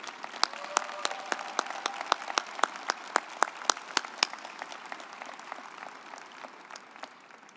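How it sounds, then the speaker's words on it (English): Scattered applause at a West Virginia University College of Law commencement ceremony: distinct individual claps ring out fairly faintly and thin steadily toward the end, as if from a small group. "I want to give her a special round of applause"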